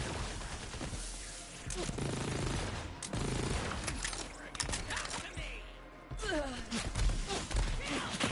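Gunfire rattles at the player in Borderlands 3, bursts of shots and thuds scattered among game effects while a voice talks over the fighting.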